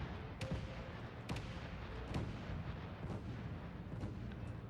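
Ship bridge taking fire in the Space Engineers game, several sharp booming impacts spaced irregularly over a low rumbling background, loud and punchy with no talking.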